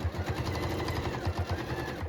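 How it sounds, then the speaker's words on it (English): Sewing machine running steadily on a medium stitch straight up the middle of a denim seam on a reworked denim skirt, a close, continuous rapid mechanical chatter with no talk over it. "I've brought you to the sewing machine because I'm just going to show you that I am sewing"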